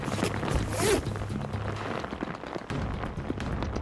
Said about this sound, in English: That's cold rain there.